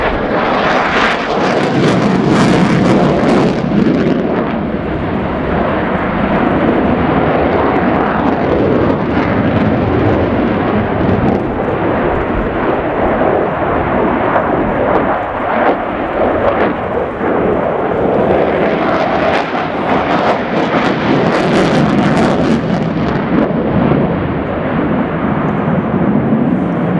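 Ukrainian Air Force Su-27P1M Flanker display at an air show, its twin Saturn AL-31F turbofans producing a loud, continuous roar that surges and swells as the jet passes, with no voices.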